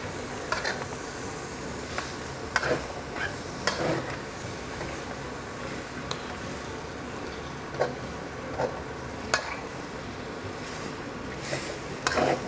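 Pork larb, northern Thai style, is stirred and mixed in a pan over low heat, with soft scraping and light clinks of a utensil against the pan at irregular intervals and a faint background hiss.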